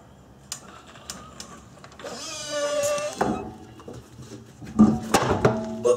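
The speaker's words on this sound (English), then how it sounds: "and then we can lower the jack here." A car jack is lowered beneath a raised car during a brake pad job, giving a close mechanical whir and clunk mixed with scattered clicks and knocks, with no voices.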